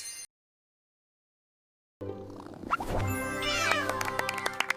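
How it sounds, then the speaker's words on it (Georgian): After a brief silence, a cat meows repeatedly, drawn-out and wavering, close by. "კატა"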